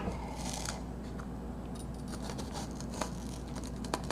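A knife slices lengthwise through a slippery leek on a cutting board, making a close, steady run of crisp scraping and crunching strokes with a few sharper taps and no talking.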